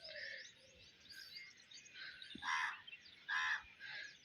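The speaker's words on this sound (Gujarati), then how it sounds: "કાગડો બોલે છે" A crow caws from near a rooftop in the morning: a few harsh, separate calls, two of them louder, over a faint, quiet outdoor background.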